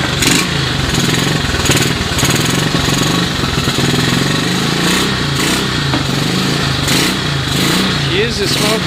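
A long-dormant 1986 Honda TRX125 ATV, running smoky after a cold start, idles steadily and loudly up close, its engine chugging and rattling without a break.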